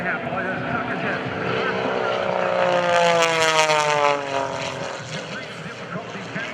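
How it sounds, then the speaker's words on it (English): A lightweight, highly maneuverable aerobatic plane performs at a 2012 Blue Angels homecoming airshow, its loud propeller engine droning with a pitch that sweeps up and down as it passes close overhead. "Extremely lightweight and maneuverable aircraft."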